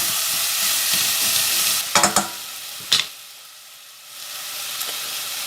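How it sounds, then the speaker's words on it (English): Onions fry in oil in a pan with a loud, close, steady sizzle, a few sharp clatters and spits from stirring partway through, then a quieter hiss before the sizzle swells again. "get these onions in. We just want to cook these until they're translucent"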